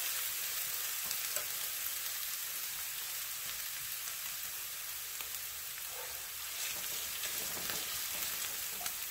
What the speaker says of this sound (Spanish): Vamos a esperar que se sofría un poquito.